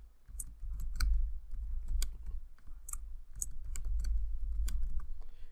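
Keystrokes on a computer keyboard as a password is entered for a new user account, a quick irregular run of close, crisp clicks and taps with no talking.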